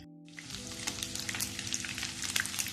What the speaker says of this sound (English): Still let them cook on the other side until they're golden brown and crispy